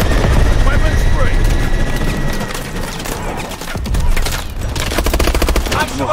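Gunfire in the video game Call of Duty Advanced Warfare: dense, continuous automatic weapon bursts and rapid shots, loud and close, with a rumbling, helicopter-like drone underneath and no pause throughout.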